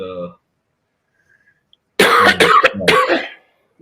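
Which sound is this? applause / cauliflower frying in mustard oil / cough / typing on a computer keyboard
cough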